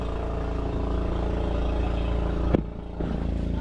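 A boat's diesel engine runs nearby with a steady, low, throbbing drone, briefly interrupted by a sharp knock and a short dip before resuming.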